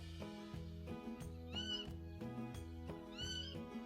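A bright, chirpy bird call with rising and falling whistled sweeps repeats twice over a steady musical background, fairly faint and distant, on a nature walk.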